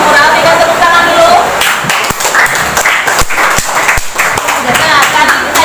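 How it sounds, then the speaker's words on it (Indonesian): Classroom audience clapping for a student group's presentation, a dense patter of hands with a few sharp louder claps standing out, fairly close, and some voices mixed in. "berikan tepuk tangan dulu"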